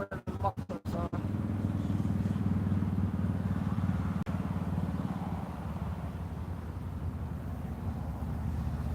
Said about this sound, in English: These motorcycles seem to have forgotten where the mufflers are.